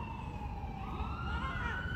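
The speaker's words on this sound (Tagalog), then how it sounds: "may ambulansya" An ambulance siren wails past on a city road at night during a ride to work, its rising and falling tones steady and fairly distant under traffic rumble, with no talking.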